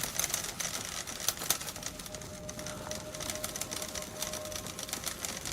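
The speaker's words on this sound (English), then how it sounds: "the typewriter sounds like rain hitting like a tin roof or something" Typewriter keys clatter in the Alan Wake 2 video game, a quick irregular patter of sharp taps continuing throughout, moderately loud with no talk.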